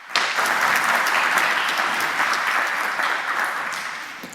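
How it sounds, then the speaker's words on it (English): A conference audience applauds a lightning-talk speaker on hacking IP cameras at a hacker camp, steady dense clapping from many hands that fills the room and fades slightly at the end. "A big applause to Jer"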